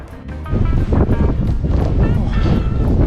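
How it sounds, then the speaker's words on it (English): Strong wind buffeting the microphone on an open hilltop, a loud continuous roaring rush with gusty swells and no pauses. "this wind is strong"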